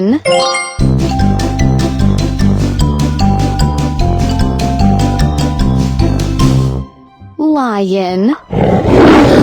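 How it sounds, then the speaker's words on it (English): A lion's rough, breathy roar bursts in at the very end, after a bouncy, loud musical tune and a short spoken word. "L-I-O-N. Lion."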